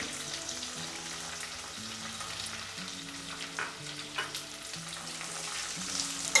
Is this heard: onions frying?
yes